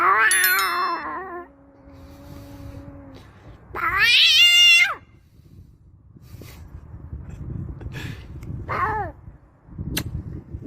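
A cat meows loudly and up close in three drawn-out, wailing calls separated by quieter pauses with faint background noise.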